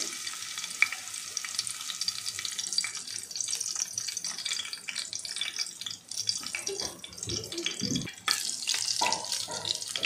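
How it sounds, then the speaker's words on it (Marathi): Garlic dropped into hot oil for an achari vegetable pulao, frying with a steady, close sizzle and occasional stirring scrapes, the crackle swelling near the end. "तेल इथं चांगलं गरम झालेलं आहे। ह्याच्यामध्ये आता मी लसूण टाकत आहे।"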